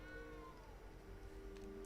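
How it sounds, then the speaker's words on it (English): A cat meows in the Hogwarts Legacy video game, a single drawn-out call rising then falling, fairly faint over a steady low game soundscape with soft music. "did I hear a cat? Where's the cat?"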